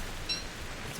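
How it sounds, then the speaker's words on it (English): Rain falls in the survival video game Don't Starve: Shipwrecked as a soft, even hiss of drops that stays faint and constant throughout. "It's raining."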